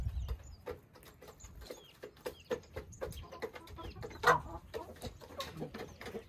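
A rooster on a village farm clucks in short, scattered calls at low volume, mixed with scratching and pecking sounds and other fowl close by.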